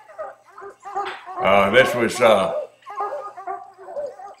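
Ten-month-old coonhound pups chasing a caged raccoon let out a loud, drawn-out baying howl mixed with yips, and softer barks follow. Someone speaks briefly over the dogs.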